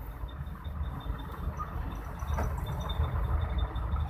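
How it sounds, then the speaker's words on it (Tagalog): Long traffic jam of cars and trucks on a Philippine road, a low steady engine rumble with a faint repeating high beep and a brief passing swell, heard from nearby with no one talking. "balik tayo dito sa traffic, napakahaba"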